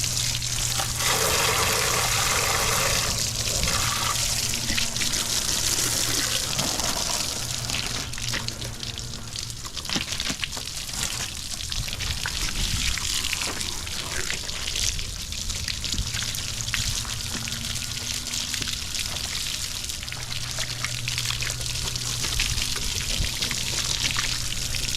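Water sprays continuously while a Honda Goldwing motorcycle is washed, including underneath. The hiss is loud and close, with a steady rush that shifts slightly as the stream moves across surfaces, and no voices.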